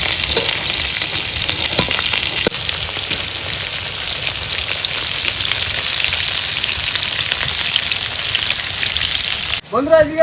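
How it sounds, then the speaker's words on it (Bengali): Pieces of bhola fish fry in a home kitchen pan with a loud, close, continuous crackling sizzle that holds steady, and a brief clatter comes near the end. "মা এদিকে মাছ ভাজছে"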